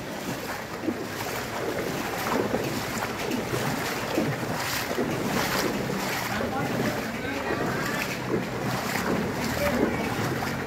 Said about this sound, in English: That's the sound of my legs going through the very heavy water.